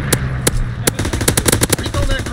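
Rapid bursts of MP40 submachine gun fire in a wartime video game, loud and close, sharp cracks in quick rattling strings with a few isolated single shots early on.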